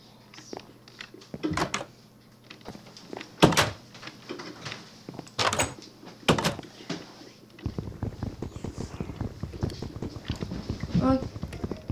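A wooden door is placed in the Minecraft video game, giving a few sharp knocking clunks over the course of the clip. People talk at times, and later there is a steady run of clip-clop-like footsteps.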